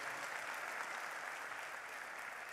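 Steady, even applause from a seated audience at the end of a tech talk session on Android, a faint but continuous wash of many hands clapping.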